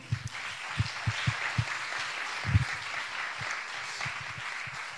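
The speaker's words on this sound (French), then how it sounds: "On peut encore l'applaudir." An audience at a Holywins 2021 church gathering applauds after a personal testimony, a steady wash of many hands clapping with a few louder close claps standing out, sustained throughout and without speech.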